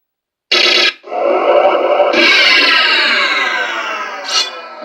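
Sega Saturn console booting after a reset, running a Japanese copy of Strahl through an Action Replay cartridge: a short bright synthetic burst, a brief gap, then a swelling shimmering chorused tone with echoing tail, loud and alone.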